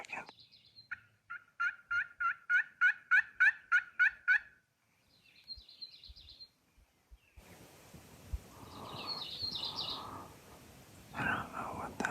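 Wild turkeys calling at sunrise in the desert: a quick, rhythmic run of about a dozen loud yelps, then a softer call. Hissy outdoor noise with faint murmuring follows.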